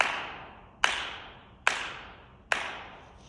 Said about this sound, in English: that echo of my clapping is because the sound is going up into the dome